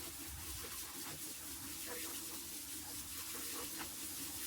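Water is poured into potting soil while tomato plants are being transplanted, making a steady, soft gushing stream that runs the whole time.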